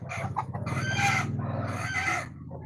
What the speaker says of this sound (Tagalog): Naglilimlim na naman yung manok na yun.